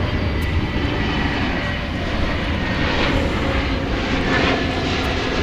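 An airliner passes at DFW Airport with a steady, broad engine roar that holds loud throughout, swelling slightly as it moves by.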